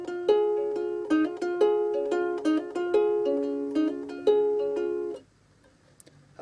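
A song's interlude on ukulele, the picked melodic patterns strung together at a brisker tempo, a steady run of bright plucked notes up close that stops abruptly near the end, leaving quiet room tone.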